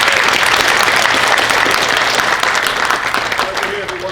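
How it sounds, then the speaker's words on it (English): A conference audience applauds Mike in a sustained, loud round of clapping that fills the room evenly and eases slightly toward the end. "let's give one more round of applause to Mike"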